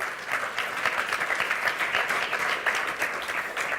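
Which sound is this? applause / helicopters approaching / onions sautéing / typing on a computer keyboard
applause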